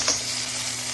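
Chili garlic oil hits a hot wok and sizzles, a bright spitting hiss that flares at first and then settles into a steady close fry.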